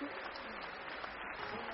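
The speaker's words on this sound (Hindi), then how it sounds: "जोरदार तालियां हो जाए।" Audience applause at a large spiritual gathering, a dense steady wash of many hands clapping for nearly two seconds, fairly distant and moderately loud with no talk over it.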